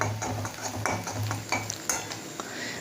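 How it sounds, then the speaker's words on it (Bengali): Onions fry in hot mustard oil with a soft continuous sizzle, broken by several scraping strokes of a spatula stirring the pan up close. "পেঁয়াজটা ভালো করে ভেজে নেব সর্ষের তেলে।"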